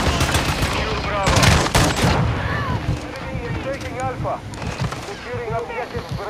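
Shotgun blasts in a first-person shooter fire amid a busy battlefield, loud booming shots mixed with other gunfire and explosions while a voice talks under the chaos.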